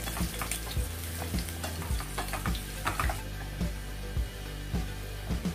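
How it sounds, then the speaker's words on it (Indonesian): Chopped garlic fries in oil over low heat until golden brown, giving a steady close sizzle broken by regular scraping stir strokes. "Nah, kita goreng-goreng aja sampai dia kecoklatan."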